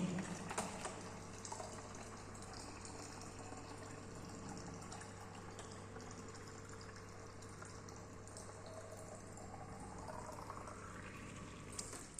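Steady water pouring into a container from an automatic water dispenser, a continuous liquid rush with a low hum beneath it, with no talking.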